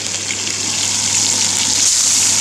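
Chopped onion dropped into hot oil along with cumin and green chillies, giving a loud, steady, close sizzle and frying hiss that holds all the way through with no voices over it.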